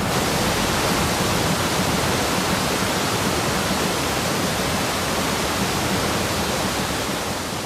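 Rain-fed torrent roaring off the high Cherrapunji plateau in India, a dense, steady wash of rushing water that stays loud and unbroken throughout.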